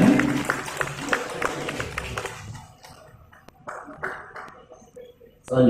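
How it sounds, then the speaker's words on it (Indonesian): Applause from an audience at an IKWI Indramayu installation ceremony, a burst of claps that thins into scattered taps and fades, under light talk. "Kita berikan tepuk tangan yang luar biasa"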